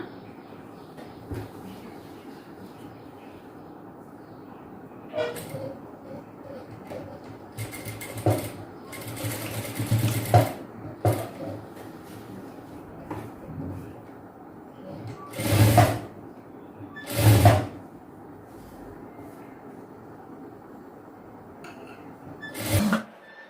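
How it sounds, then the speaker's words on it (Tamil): A sewing machine stitches a folded edge on a boat neck top with a front slit during a tailoring lesson, running in short bursts separated by pauses, with two louder, stronger runs near the end and quiet room noise between. "இப்போ அப்படியே ஃபோல்ட் பண்ணி ஸ்டிச் பண்ணிடலாம்."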